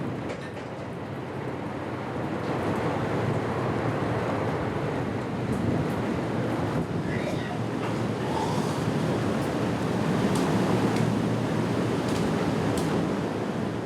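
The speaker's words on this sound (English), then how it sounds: "Huge waves rock the humanitarian ship to and fro." Huge waves rock a humanitarian ship at sea in the Mediterranean, a continuous rushing surge of water and wind that swells louder toward the end.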